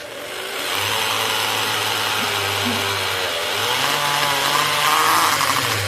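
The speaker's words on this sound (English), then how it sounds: "I'm going to drill a hole through this." A power drill whirs steadily at close range while drilling a hole during a trailer repair, its pitch dipping and rising as it bites into material, with no voices.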